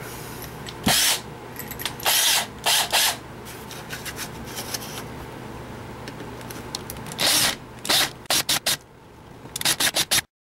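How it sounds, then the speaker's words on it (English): Repeated short bursts of high-pitched drilling as a drill bit drills out the head of a rivet on a Matchbox Mercury Wagon toy car, each under a second, separated by quieter scraping and handling noises in a workshop. "Now we'll use this bigger drill bit to knock out the head"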